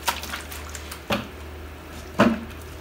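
Water dripping from a soaked car-washing towel lifted out of a bucket, a few separate drips and splats falling at spaced intervals, close and fairly quiet.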